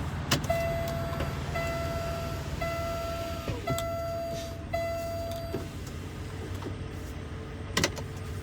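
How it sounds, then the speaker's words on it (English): A truck cab's electric window motor hums in several short bursts as the window rolls up, fairly close, with steady idling engine rumble underneath and a couple of brief clicks near the end. "me roll that window up for now"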